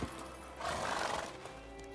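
Roach, Geralt's horse in the Witcher 3 video game, gives a loud close neigh while hooves clip-clop beneath, all within two seconds.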